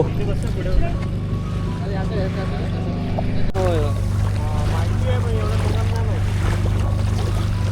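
A six-person boat heads out into deep sea off the Gateway of India, its engine droning steadily under wind and wave noise, with people talking throughout.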